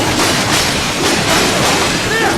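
A freight train platform rushes past in the video game Metal Gear Rising: Revengeance, a dense, steady roar of rail rumble and clatter filling the whole stretch, with faint game voices underneath.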